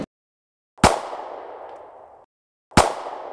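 Two sharp, loud rifle shots about two seconds apart from a Thompson Center Dimension rifle chambered in .223, fired on an outdoor range. Each report rings out briefly, and no one talks.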